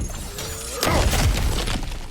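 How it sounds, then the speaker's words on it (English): Objects smash and break apart in the God of War Ragnarok video game, a sudden loud crash followed by scattered debris impacts that trail off over ongoing ambient game sound. "back to smashing through things for fun and profit"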